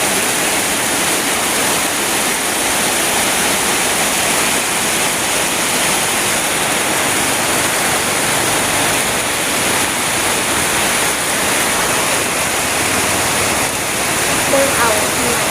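Rain falls steadily in a continuous dense hiss with faint light patter, holding level throughout with a voice nearly buried beneath it.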